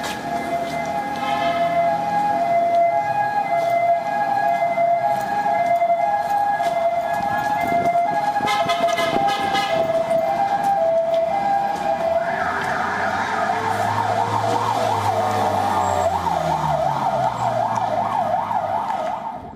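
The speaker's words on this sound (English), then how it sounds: "This is an ambulance." A loud ambulance siren wails continuously nearby in Eastern Ghouta, Syria, switching from a steady two-tone pattern to a rapid warbling yelp as traffic noise rumbles beneath.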